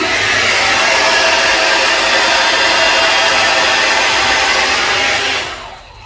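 A hair dryer blows as a steady, loud broadband rush for about five seconds before its roar drops away at the end while it is switched off, with no voices over it.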